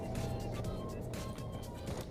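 A car engine in the PUBG Mobile video game hums at a steady, moderate level for about two seconds. It sits low under faint game noise, with no clear speech.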